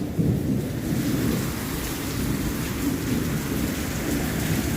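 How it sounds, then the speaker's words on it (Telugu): Heavy rain pours steadily with low rolling thunder underneath, a dense continuous downpour heard close and loud throughout, with no talking. "భారీ వర్షం మొత్తం నానిపోయిన"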